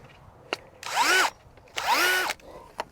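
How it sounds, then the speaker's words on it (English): A 20-volt cordless drill fitted with a power planter auger digs into garden soil while planting perennials in a new bed, two loud whirring bursts with rising and falling pitch, separated by brief pauses and sharp knocks. "if you have a 20-volt drill, you should order some power planter augers"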